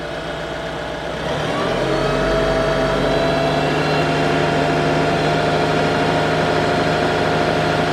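Tractor engine running close and loud, rising after about a second from a lower idle to a steady, heavy 1500 RPM drone and holding there, with no voices.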